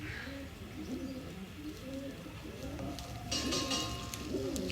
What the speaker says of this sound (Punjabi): ਦੇਖੋ ਜੀ ਲਾਲ ਸਰੇ ਕਬੂਤਰ